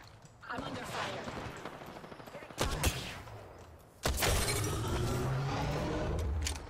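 Gunfire erupts in an Apex Legends battle royale match, with rapid crackling shots, a couple of sharp heavy blasts and shattering impacts, close and dense, while players talk over the action.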